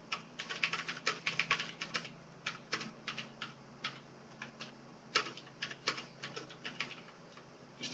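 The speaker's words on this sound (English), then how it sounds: "my keyboard has a tendency to type double" Fingers typing on a computer keyboard produce rapid, irregular bursts of crisp clicks close by, with short pauses between flurries and no voices.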